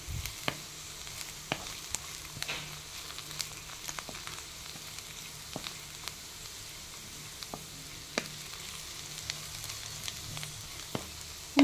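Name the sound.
ivy gourd (dondakaya) frying in a pan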